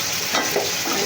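Shrimp sizzle and crackle loudly in a hot pan while being stirred, a steady close frying hiss with scraping strokes throughout.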